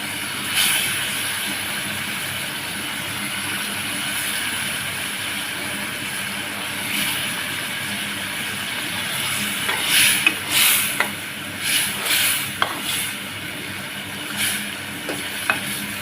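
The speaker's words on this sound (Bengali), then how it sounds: "আমি এখন পাবদা মাছগুলো দিয়ে দিব, যেহেতু তেলটা হয়ে এসেছে।" Pabda fish fry in hot oil for a fish curry, a steady loud sizzle and hiss that swells with bursts of crackling spatter near the end, close up and without voices.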